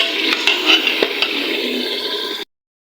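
Green chillies frying in a pot of white beans and mutton mince, a steady hissing sizzle with occasional scraping and clinks of a spoon against the pot, close and continuous, no talk, ending abruptly.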